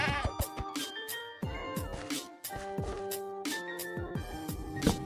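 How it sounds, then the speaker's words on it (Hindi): A goat in the Minecraft video game bleats repeatedly as it is killed, quick wavering cries layered over upbeat game music and clicking effects, with no talking. "फिर उसके बाद मैं बकरी का रेस्ट इन पीस कर देता हूँ।"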